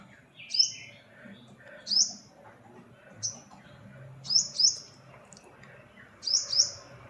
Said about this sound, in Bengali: এটা হচ্ছে হামিং বার্ড।